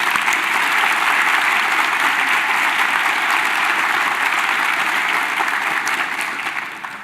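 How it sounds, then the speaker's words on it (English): Sustained applause from an audience at a Ronald Reagan Presidential Foundation scholars program ceremony, steady and full for about seven seconds before tapering slightly at the end. "You deserve a round of applause."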